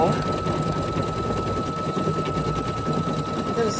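A sewing machine runs a test stitch, its needle hammering in a fast, steady mechanical rattle throughout, close and continuous.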